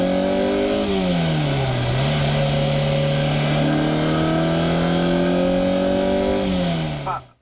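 A Ferrari engine revving with a flat, four-cylinder-like exhaust note, held at a steady drone near the microphone with a couple of pitch dips and rises before it cuts off abruptly.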